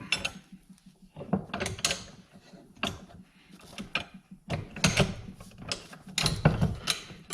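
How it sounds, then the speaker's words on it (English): A ratcheting wrench loosens a rear shock absorber bolt on a 2017 Ford Escape, giving bursts of quick clicking ratchet strokes separated by short pauses, close and clear, with no speech. "I'm going to try to switch it over to a ratcheting type wrench. So I'm going to loosen it up."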